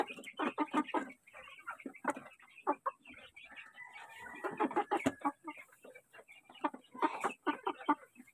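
Chickens cluck and chatter in quick, overlapping bursts, fairly faint and steady, with a few sharper squawks mixed in; among them are Rhode Island chicks.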